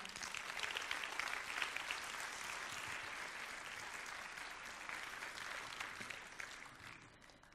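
A studio audience gives sustained applause to welcome a professor guest on a French talk show, dense even clapping that holds steady and tapers slightly at the end.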